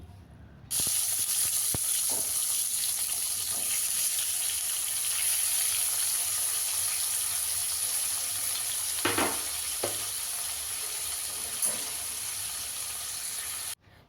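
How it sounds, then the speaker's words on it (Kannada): Onion and tomato fry in oil with cumin, fennel and bay leaf for a mixed vegetable paneer gravy, a loud continuous hiss and sizzle with occasional stirring scrapes, cutting off abruptly at the end. "ಈರುಳ್ಳಿ ಟೊಮೊಟೊ ಎಣ್ಣೆಲಿ ಚೆನ್ನಾಗಿ ಫ್ರೈ ಆಗಬೇಕು"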